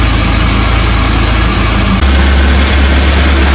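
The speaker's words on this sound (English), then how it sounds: "I'll let the engine warm up a bit" A 1980 Triumph TR7 engine idles while warming up during a check for a water pump problem. The loud, steady low rumble runs close-up throughout and drops slightly in pitch partway through.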